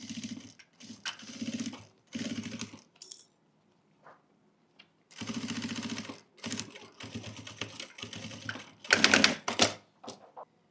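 A sewing machine stitches along a zipper on a fabric pouch in several short bursts of rapid needle chatter, separated by pauses with faint handling clicks, close and clear.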